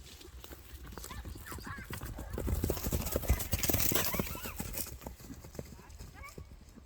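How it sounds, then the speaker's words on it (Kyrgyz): Racing horses on the move, with rapid clip-clop hoofbeats and occasional neighs from several animals, steady and fairly close throughout, with people talking over them and a louder surge of hooves in the middle. "Külük atlar çıkardı ekan bu çağılışta."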